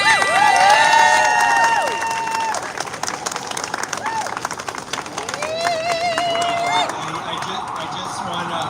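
A crowd at an outdoor animal rights march in New York City applauds and cheers for a speaker, with clapping and whoops in the open air and shouts rising and falling across the clip.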